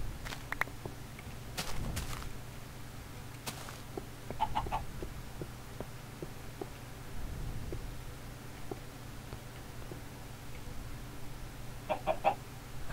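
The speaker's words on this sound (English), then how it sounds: "I heard a footstep, but I think it was that chicken." Chickens in Minecraft give short clucks in several scattered bursts, with soft blocky footsteps between them, fairly quiet against a low background.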